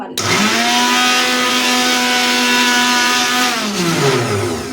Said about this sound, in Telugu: ఇలా మిక్సీలో అయితే వేసుకుంటున్న తొందరగా కావాలని